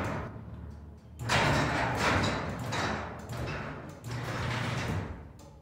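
A garage door driven by a Genie opener rumbles and rattles as it slides down, a loud continuous mechanical grinding with a few clunks along the way.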